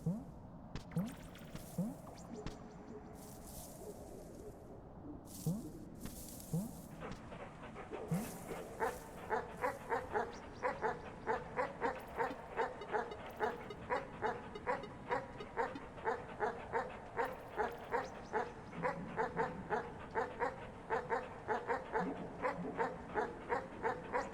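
Ghost dogs in the game Animal Well bark, yip and whimper, at first in scattered calls, then in a long run of rapid, evenly spaced barks that carry on steadily to the end.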